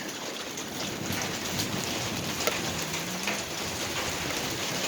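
Heavy rain falling on a garden during a storm, big drops pattering densely and steadily on surfaces, close and loud with no break and no talking.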